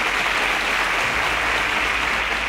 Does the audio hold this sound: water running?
no